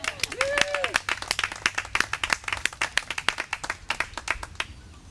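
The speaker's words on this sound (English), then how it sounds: "let's give that a woof or a round of applause" Scattered outdoor clapping from a small crowd at a dog park ribbon cutting, distinct individual claps in an uneven rhythm, with a whoop and a voice briefly heard at the start, tapering off.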